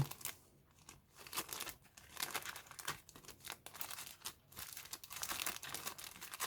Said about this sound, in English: I don't need this bag anyway, I'll just slice it open.